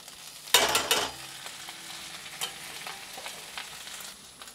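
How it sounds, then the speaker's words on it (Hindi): Fried onion and tomato tipped into a pan of crisping dried shrimp over a low flame: a loud burst of sizzling on contact, then a quieter steady hiss with a few stirring sounds. "जो हमने प्याज टमाटर को फ्राई करके रखा है ये डाल देते हैं।"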